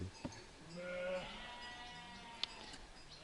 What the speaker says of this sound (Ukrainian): Вівці вже пішли далі.